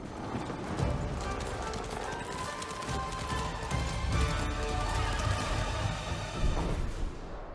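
Galloping horse hooves in the video game Ghost of Tsushima, Iki Island expansion, a steady fast clip-clop rhythm running throughout with occasional whinnies, close and fairly loud over game sounds.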